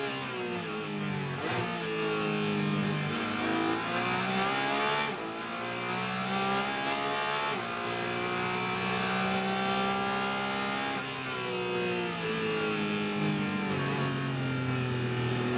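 A Corvette race car in a Trans Am race at Sonoma roars continuously with sustained high engine revs that climb and dip through gear changes, loud and dominant throughout.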